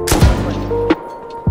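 Rocket launcher blasts in the video game Rust, two or three heavy booming impacts with low thuds and rumble, loud and close, with no talk over them.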